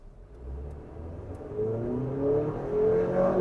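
A 2024 GMC Acadia's engine hums from a low idle into a rising drone as the SUV accelerates, with the pitch climbing and the sound growing louder, heard from inside the cabin.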